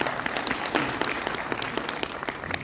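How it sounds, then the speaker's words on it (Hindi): A crowd gathered for a retirement ceremony claps vigorously and evenly for a couple of seconds, a close, full round of applause with individual sharp claps standing out. "मैं चाहूँगा एक बार जोरदार तालियां श्री पूरन सिंह जीना जी के लिए"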